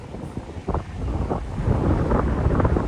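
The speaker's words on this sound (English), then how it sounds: "it's still a little windy" Wind in Manhattan, New York City, buffets the microphone in rough, low gusts, growing stronger and steadier toward the end, with a faint wash like distant water underneath.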